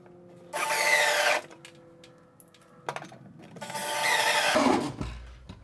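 Power drill driving screws to mount an electrical box in home wiring work, two loud whirring bursts close by, separated by quieter handling clicks and knocks.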